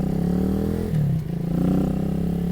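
Janus Halcyon 250 motorcycle with a modified Moto Cult short pull throttle, its engine idling loudly and steadily, with a brief blip of revs around the middle before settling back to a throbbing idle.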